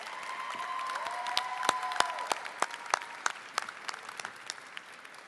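Families and friends at the Del Norte High School 2015 graduation ceremony applaud in a steady, moderately distant round of clapping that fills the hall, with a few sharper individual claps standing out.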